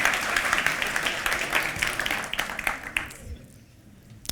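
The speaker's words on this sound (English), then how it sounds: "Give a round of applause for James" An audience at a magic show applauds a volunteer, a broad, fairly close patter of clapping that tapers off after about three seconds into quieter room sound, with some talking mixed in.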